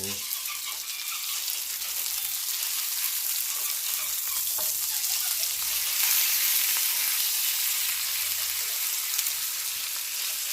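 A steak fries in a frying pan with a loud, dense, continuous sizzle that holds steady throughout, with faint occasional clinks.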